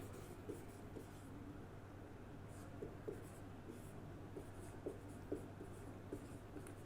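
Pen or pencil writing on paper, faint scratchy strokes with small taps at irregular intervals over a low steady hum, close and quiet with no talk.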